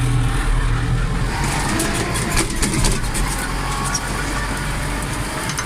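A tractor engine labours loudly and steadily while working very hard soil on worn front tyres with no tread, with a rough mechanical rumble and faint voices in the noise.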